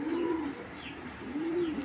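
A young black checker cock, an imported club racing pigeon, coos in two clear low rolling calls, close and distinct against a quiet background.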